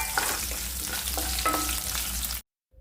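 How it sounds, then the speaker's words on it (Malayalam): Small shallots sauté in hot oil in a pan, with a steady close sizzle and occasional stirring scrapes before it cuts off abruptly. "ചെറിയ ഉള്ളി ഒരു 30 സെക്കൻഡ് ഒന്ന് വഴറ്റിയാൽ മതി കേട്ടോ, അതിൽ കൂടുതൽ വഴറ്റരുത്"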